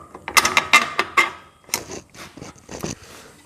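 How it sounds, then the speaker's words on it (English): A high tensile bolt is pushed through drilled holes in a steel suspension bar for a parallel four-link setup on a 1939 Hudson rat rod. Close metallic clicks and scrapes come in quick bursts. "So now my high tensile bolt will go in like that."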